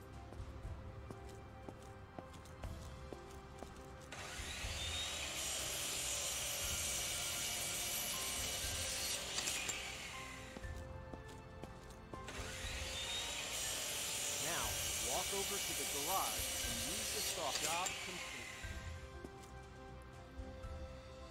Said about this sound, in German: jetzt müssen wir wieder mit der Motorflex die Öffnung schaffen zu dieser Garage